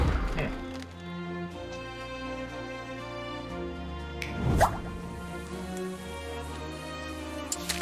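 Monster-part mixture is stirred in the cooking game Battle Chef Brigade: wet squelching and dripping sounds under layered game music, with a sharper splash partway through.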